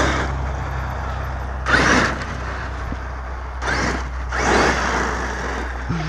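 Traxxas X-Maxx RC car on a 12S setup with a Flier 400A ESC, its motor whining up in three short light-throttle bursts over a steady low hum, fairly close and alone.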